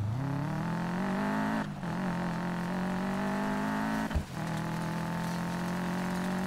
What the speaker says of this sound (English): Plus, we get to listen to this Wicked Subaru